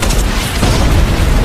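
A grenade blast in an action film, a loud, dense, rumbling boom sustained throughout with heavy low-end roar and no speech.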